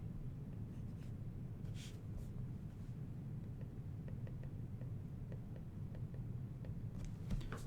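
Marker or chalk writing on a board in a lecture room, faint scratchy strokes in short bursts over a steady background rumble, no talking.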